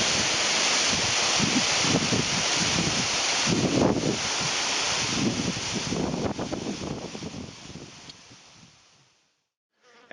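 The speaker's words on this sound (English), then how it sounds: "As you can see behind me, there's a huge waterfall. It's called Treasure Falls." Treasure Falls, a large waterfall in Colorado, roars as a steady, dense broadband rush close by, with some wind buffeting, holding level before fading out near the end.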